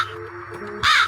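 A single loud, harsh crow caw bursts out at the end after a low hum.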